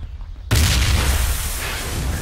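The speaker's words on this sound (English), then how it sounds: "Everyone get back, grenades." A grenade blast in an outdoor combat setting: near-silence broken by a sudden loud, deep boom that rolls on with a long rumbling tail.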